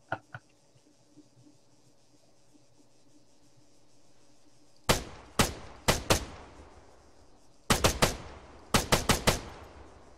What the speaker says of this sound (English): I thought they were shooting at me.